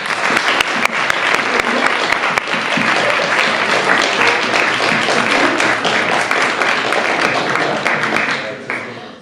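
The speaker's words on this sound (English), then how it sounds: "Please, a round of applause" Sustained applause from an audience at a campus debate on preventive war, dense steady clapping filling the whole stretch before tapering off at the very end.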